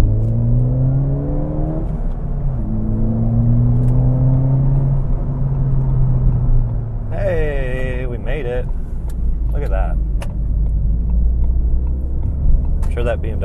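Ford Fiesta ST accelerating on the street while racing a BMW, with a steady engine rumble and rising revs, a gear change midway, and someone talking over it throughout.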